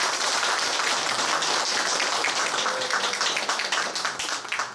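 Audience applause after a history-of-astronomy lecture at a Korean forum: dense, steady clapping from a crowd, filling the clip at fairly close range before gradually thinning toward the end.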